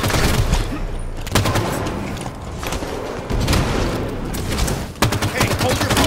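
Gunfire in the video game Halo 5, loud bursts of rapid automatic fire and sharp shots stacking up in dense volleys, close and continuous with brief lulls across several seconds.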